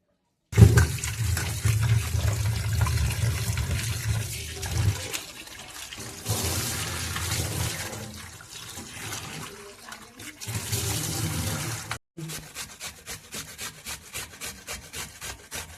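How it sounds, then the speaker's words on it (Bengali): Cut prawns rinsed clean under running water, a steady close rushing and splashing with scrubbing, rubbing sounds that swell and ease in waves, broken by a brief pause near the end. "চিংড়ি মাছগুলো কাটা হয়ে গেছে, এবার আমি ধুয়ে পরিষ্কার করে নিই।"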